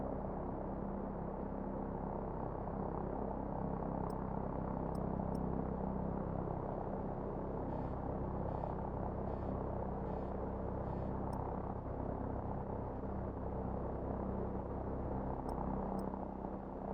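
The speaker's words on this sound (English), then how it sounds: "Crew, be advised. Friendly helicopters entering the area." Helicopters fly over the battlefield in Modern Warfare Remastered, a low, steady rotor rumble and hum that continues throughout, with faint repeated pulses and a few brief high clicks.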